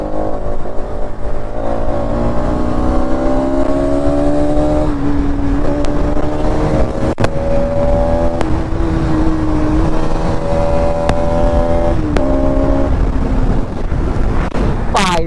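Group of four motorcycles including a KTM Duke and Bajaj Pulsar NS and RS models riding on an open road for an Independence Day ride, with steady engine drone and rising gear pitches under heavy wind buffeting.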